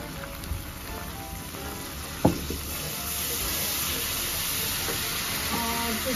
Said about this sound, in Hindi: तो अदरक लहसुन जो मैंने 2 चम्मच डाले थे उसकी मैं अच्छे से भुनाई कर रही हूँ